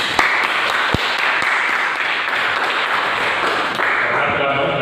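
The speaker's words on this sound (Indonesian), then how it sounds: "beri aplaus dulu kepada teman-teman sekalian" Classmates in a classroom clapping together, a steady sustained round of applause at close range lasting several seconds, with a few sharper individual claps standing out.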